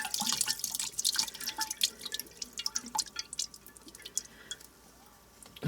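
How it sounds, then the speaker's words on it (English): Canned Kroger beef broth pours into a Ninja Foodi slow cooker, a faint run of splashing, dripping liquid with scattered small plops over several seconds. "I've got 1 can of Kroger beef broth. I'm going to put that in the crock pot."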